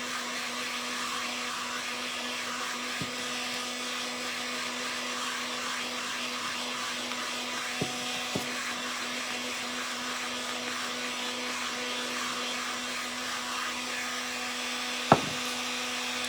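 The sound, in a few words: electric dryer blowing to dry a paint inlay on ceramic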